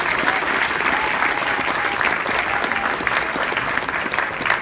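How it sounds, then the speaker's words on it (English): Steady, dense audience applause at a conference, greeting the first speaker of the event as he takes the stage; the clapping is continuous and fairly loud throughout, with no voices on top. "please give him a round of applause, Mr. John Wang."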